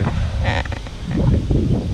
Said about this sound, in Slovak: Dneska večer má prestať takto silno fúkať vietor